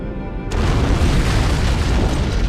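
An antimatter charge explodes aboard a ship in Halo: Combat Evolved, starting with a sudden heavy boom. A deep, loud rumble follows and holds steady to the end, with no speech.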